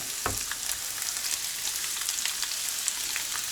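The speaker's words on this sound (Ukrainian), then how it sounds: "зараз ми вкидаємо нашу морквочку і цибульку" Steady, dense sizzling of carrot and onion frying in a hot pan, with a soft thump as they drop in near the start; no voices.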